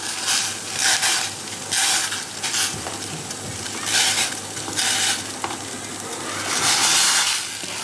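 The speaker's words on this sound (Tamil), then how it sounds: "நல்லா தண்ணி கொதிக்குது." Steady bubbling and sizzling from a pot of water at a hard boil for pickling jalapeños, carrot and radish, close and continuous, with surges of louder hissing.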